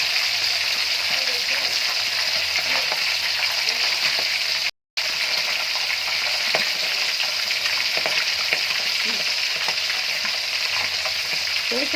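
Boiled chicken leg pieces fry in hot oil with a dense, continuous sizzle and occasional crackles, loud and close, broken once by a brief moment of silence.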